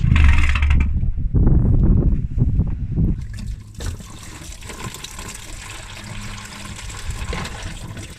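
Coolant drained from a Ford Fiesta ST pours and splashes loudly at first, then settles into a steady trickle and drip into a container, with no talking.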